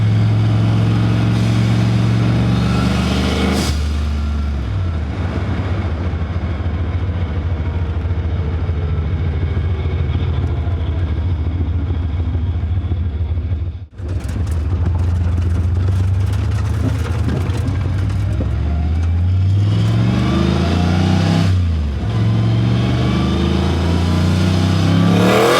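A blow-through turbocharged car engine pulls hard through the gears, with loud rising revs, an abrupt dip at a shift, then another climbing pull, heard from inside the car.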